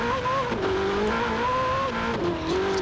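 Steady, loud cabin drone of a stock 2019 Ferrari 488 Pista heard from the interior in Forza Horizon 4, the engine note rising and falling through gear changes with a faint hint of tire squeal.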